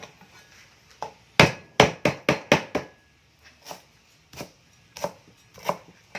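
Pounding lemongrass and herbs for tom yum fish head soup: a loud burst of about six sharp, rapid thuds, then a slower run of softer, spaced knocks, close up with no talk.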